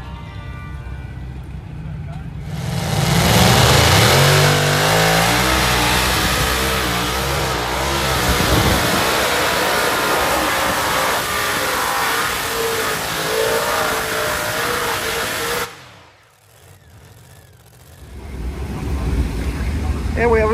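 A supercharged 7,000 HP light modified pulling tractor engine revs loudly and steadily for about thirteen seconds, drops out briefly, then rises again, with people talking over it.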